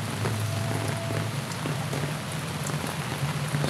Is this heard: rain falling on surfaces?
yes